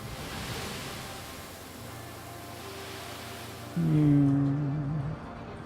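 In the video game RoadCraft, a steady, grainy hiss of sand pours from a truck in a continuous stream, joined partway through by a louder rumbling tone before it cuts off.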